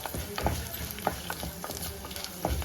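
A ginger mixture for Kerala-style inji puli fries in a pan, a soft sizzle broken by a few spatula scrapes and taps as it is stirred, fairly quiet and with no talking.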